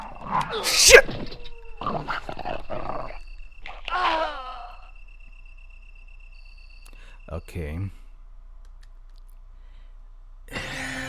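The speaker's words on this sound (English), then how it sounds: "Ignore the dogs! Ah, no! Ignore the dogs!" Dogs growl and snarl in attacks in the Resident Evil Director's Cut game, short bursts spread across the clip amid sparse effects and a steady insect-like hum, with a player's voice breaking in.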